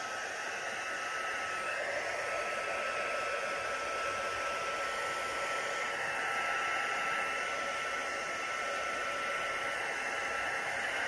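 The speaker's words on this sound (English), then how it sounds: "Let's try the little one first, the embossing tool. Just kind of blow it around." A small embossing heat tool blows steadily over alcohol ink on resin coasters, a continuous close, loud hiss of hot air lasting throughout with no voices.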